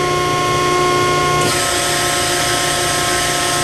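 A powered metal shear runs as its main blade moves up and down. It makes a loud, steady mechanical whine and hum whose tone shifts partway through, with no talking.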